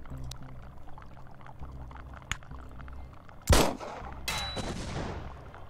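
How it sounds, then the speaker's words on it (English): A gunshot at a fuel barrel in the sci-fi post-apocalyptic RPG Encased, a sharp loud blast near the middle followed by a second burst and a decaying rumble, over a low game ambience with small ticks. "If I shoot the fuel barrel"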